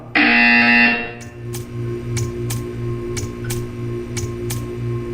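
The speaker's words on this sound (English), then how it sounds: "You will hear a buzzer." In the video game Portal 2, a loud harsh buzzer blares for about a second, then fades into a steady electronic hum with a rhythmic pulsing beneath a series of evenly spaced clicks.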